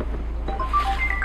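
A call placed through the multimedia system of a Lada Vesta produces a short run of electronic dialing tones over a steady low engine hum inside the cabin.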